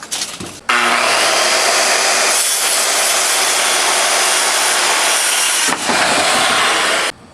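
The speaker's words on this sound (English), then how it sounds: "So let's go cut that new board." A power saw cuts a new wooden deck board, its loud steady whine running for several seconds with a brief dip near the end before it stops, nearby and without talk.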